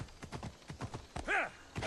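Horse hooves clip-clop in a steady rhythm during riding in Assassin's Creed Odyssey, with a short whinny near the end, close and moderately loud.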